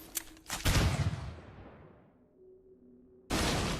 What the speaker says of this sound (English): it keeps lagging when I shoot his rocket launcher